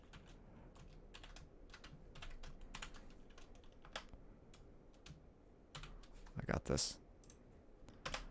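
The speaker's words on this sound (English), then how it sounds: "I'm good at typing." Rapid, uneven clicking of keys on a computer keyboard, close and fairly faint, continuing in bursts with a brief spoken phrase partway through.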